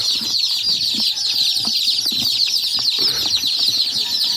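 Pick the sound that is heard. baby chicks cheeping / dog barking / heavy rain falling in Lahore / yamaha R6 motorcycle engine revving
baby chicks cheeping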